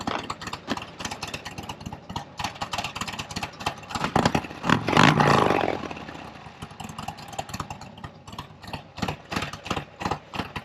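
A motorcycle with a Zippers RS468 cam, Fuel Moto 2-1-2 head pipe and Fuel Moto Jackpot mufflers idles with a loud, steady, lumpy pulse, rising briefly in a louder burst midway before settling back.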